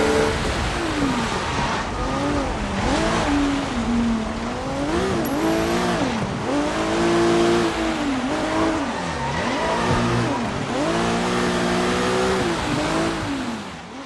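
Car engine revving and accelerating in the video game Sleeping Dogs during a chase, repeated rising and falling engine pitch with occasional tire noise, loud and continuous.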